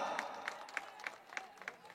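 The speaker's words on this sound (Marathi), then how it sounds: "टाळ्या होऊन जाऊ द्या एकदा." Cricket spectators at a local trophy match clap in a steady, evenly spaced rhythm, about seven crisp claps at moderate distance, fairly faint.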